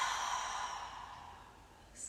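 A soft, slow breath pushed out through an open mouth during a yoga breathing exercise fades gradually, close and quiet, with no talking.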